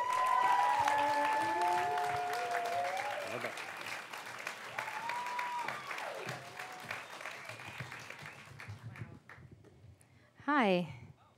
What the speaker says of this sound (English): Come on, give a round of applause.